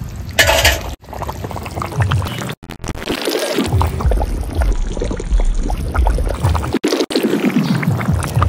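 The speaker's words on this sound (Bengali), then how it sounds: "এবার আমি দিয়ে দেবো ভেজে রাখা মাছগুলো" Fried fish pieces tumble into a pan of simmering potato curry, producing close, wet splashes and sloshing with bubbling and clinks throughout.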